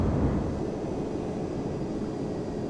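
A Boeing 767-300 jet in Flight Simulator X produces a steady, deep engine roar with the thrust reverser engaged, a continuous low rumble and whoosh holding at a constant level.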